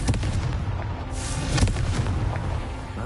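A Confringo fire spell in Hogwarts Legacy on PS5 erupts in a dense, booming blast, loud and sustained, with crackling bursts layered over a continuous rumble and no voices.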